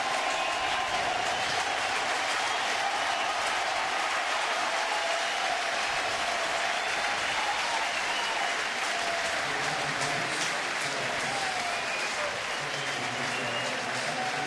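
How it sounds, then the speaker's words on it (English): A baseball crowd at a Mets home game gives hometown player Baxter a big, sustained ovation, dense applause and cheering that stays loud and steady throughout. "the hometown kid who has played so remarkably well for the Mets, and getting a big ovation"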